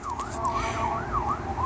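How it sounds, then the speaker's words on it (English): A siren wails in rising and falling sweeps as an emergency vehicle passes, steady and fairly loud over low rumbling traffic noise. "there's a siren coming by, obviously,"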